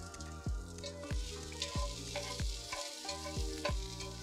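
Carrots sautéing lightly in a pan, a steady close sizzle punctuated by regular scraping stirs and soft clanks roughly every second, with no voices.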